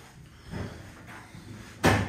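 An Otis lift's doors open in a town-centre building, with a soft rumble of movement and then a sharp thud as they reach the end of their travel. The sound is close and short, with no talking.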